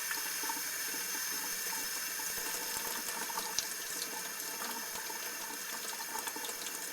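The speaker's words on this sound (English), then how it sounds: "We're going to put it under some cold water." Cold tap water runs steadily over an antique Eastman Kodak darkroom mercury thermometer held under the faucet, making a continuous soft splashing hiss that stays even and close.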